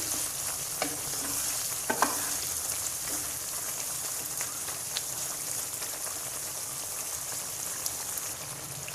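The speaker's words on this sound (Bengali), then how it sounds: "এবার আমি হালকাভাবে নেড়ে দিচ্ছি" Green chili pickle with lemon juice is gently stirred in a pan, keeping up a steady, rain-like sizzle with light scraping clicks from the spoon.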